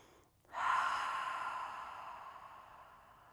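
A long, deep cleansing exhale during a yoga session. It starts with a sudden rush of breath, then slowly softens and fades over about three seconds, close and alone.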